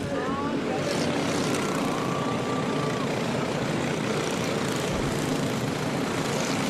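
Cadet class karts race around the Adams Motorsports Park track, a steady dense engine drone filling the scene continuously with a faint rising whine passing early on, with no clear talk.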